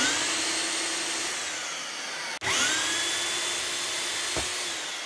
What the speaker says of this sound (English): I'm going to use a 32mm hole saw to drill the holes